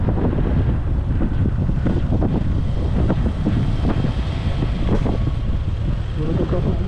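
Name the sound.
boat motor running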